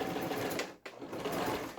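A Toyota CB03K home sewing machine runs a straight stitch, its steady mechanical whirr close and continuous with one brief stop just before the midpoint before running on.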